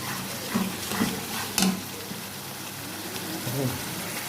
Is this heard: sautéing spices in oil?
yes